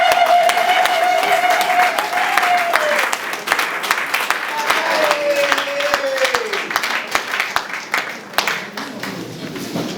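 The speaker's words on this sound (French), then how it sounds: "S'il vous plaît, applaudissez." Audience applause at a World AIDS Day event in Kinshasa, steady clapping filling the room throughout, with a sustained voice or tone briefly rising above it.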